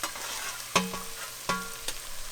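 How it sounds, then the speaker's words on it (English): Onions, ginger and green chilies frying in a pan, with a quiet steady sizzle broken by a few sharp stirring scrapes and knocks spaced about a second apart, no talking. "We're going to cook it for about 2-3 minutes just until the onions get translucent."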